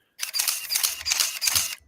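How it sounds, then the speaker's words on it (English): Nikon F301 film camera winding film on with its loud, electric motor drive, a continuous whirring burst lasting over a second and a half, close and fairly loud with no talking. "that's the sound of winding film on."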